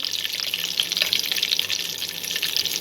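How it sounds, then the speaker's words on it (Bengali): Peas and paneer lightly frying in a pan for pulao, giving a steady, dense sizzle with small crackles throughout, close and even. "হালকা করে ভেজে নেব।"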